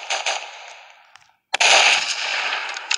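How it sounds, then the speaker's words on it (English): Gunshots in the Roblox Prison Life video game: a burst of sharp game gunfire cracks that drops to silence, then a loud sustained volley of shots, close and without talk. "Oh, no, he pulled out the gun."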